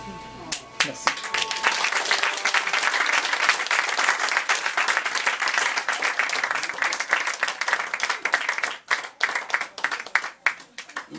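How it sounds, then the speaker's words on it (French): Applause from the audience at a French-language poetry reading evening rolls out as a dense, sustained clapping that swells quickly and holds steady before thinning out at the end, with scattered voices underneath. "On les applaudit encore une fois, mesdames et messieurs, s'il vous plaît."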